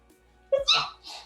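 A single sneeze, close and fairly loud, with a sharp intake leading into a burst and a short trailing breath, in a quiet indoor room.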